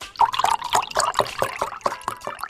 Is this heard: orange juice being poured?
yes